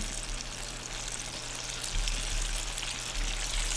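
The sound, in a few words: apples sizzling in hot buttered pan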